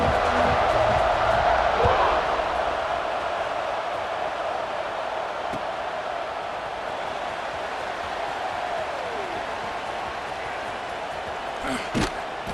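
Stadium crowd in the College Football 26 video game, a broad, steady roar of cheering around the kickoff after a touchdown, loudest at the start and then holding as a constant wash under a commentator's voice, with a sharp thump near the end.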